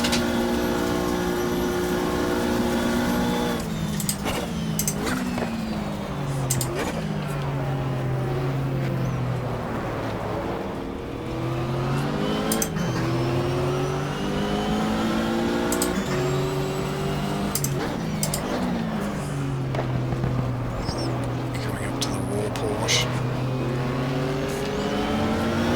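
Race cars in the sim racing game GTR2 circle Daytona in a 1995-spec 24-hour event, a steady loud engine drone rising and falling through gear shifts as the car crosses the start-finish line, with other cars roaring past.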